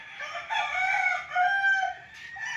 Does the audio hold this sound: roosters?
yes